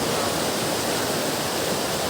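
Dense, steady roar of falling water at a waterfall, a broadband wash of sound that stays constant and close throughout with no voices.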